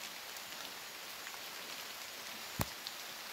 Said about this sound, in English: Hope the rain is stopped now and then